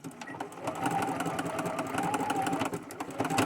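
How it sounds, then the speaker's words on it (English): A domestic sewing machine runs steadily, sewing a 3-step zigzag stitch in green thread on upcycled fabric for a boho fairy skirt, a close, even mechanical whir throughout. "I want to do it in the 3-step zigzag again with the green thread as I was"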